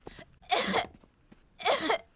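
Two harsh coughs, spaced about a second apart, close and fairly loud with quiet breathing between them.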